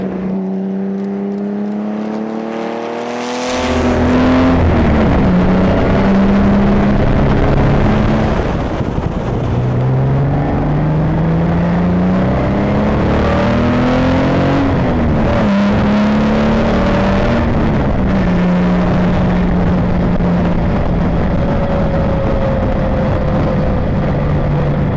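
A Jaguar XK sports car accelerating hard on winding roads, its engine loud and close, pitch climbing through the revs, dropping at gear changes and rising again, with no talking.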